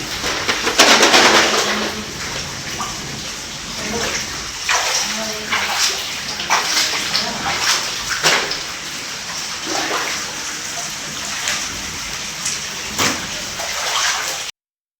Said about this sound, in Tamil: சேலத்தில் நள்ளிரவில் பெய்த கனமழையால் வீடுகளுக்குள் புகுந்த மழைநீரால் குடியிருப்பு வாசிகள் அவதி.